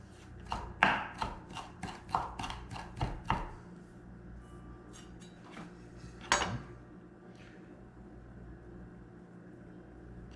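A knife chops fresh cilantro on a cutting board in a quick run of about a dozen crisp, close taps, then slows to a few scattered knocks before falling quiet.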